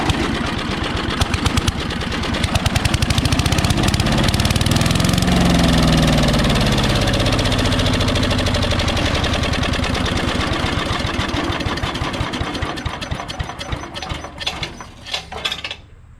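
An old Craftsman wood chipper with an 8 hp Briggs and Stratton engine runs after years unused, a loud rapid chugging idle that surges briefly, then steadies and grows rougher and more uneven toward the end.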